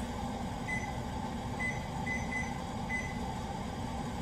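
A kitchen timer is set for five minutes while cooking, giving a few short, thin electronic beeps that are spaced unevenly over a steady, broad noise from the stove or kitchen, with no talk.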